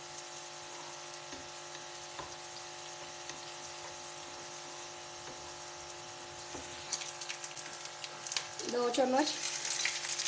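Food frying in a pan for aloo gobi, a faint, steady sizzle in the background, with a voice speaking briefly near the end.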